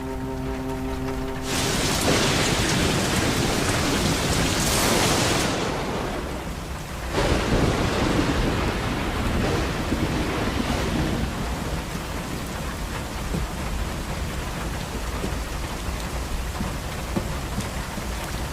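Heavy rain pours steadily on a palace at night while a loud thunderclap rolls in early and a second rumble follows, the downpour filling the whole stretch as a dense, constant hiss.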